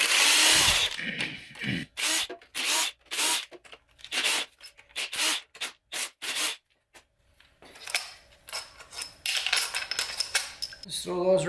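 Metal clatter and ratcheting while 13 mm pump bolts come off a 4L80E transmission, a rapid series of sharp bursts followed by bolts clinking into a metal pan, close up.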